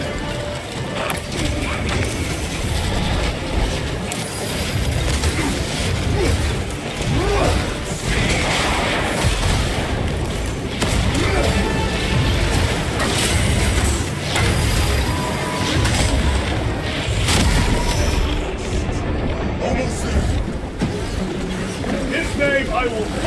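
A crack grenade is deployed in a sci-fi video game battle: dense, continuous clatter of mechanisms, crashes and whooshes, with loud bursts layered over a busy, noisy soundscape and some voices mixed in.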